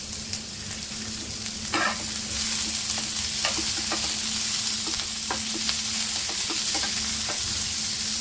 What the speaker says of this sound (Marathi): या कांद्यामध्येच टोमॅटो भाजून घेऊया.